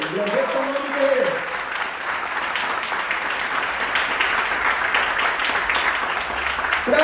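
A large church congregation in Guarulhos, Brazil claps steadily throughout, a dense, sustained wash of applause with a voice briefly audible at the start and end.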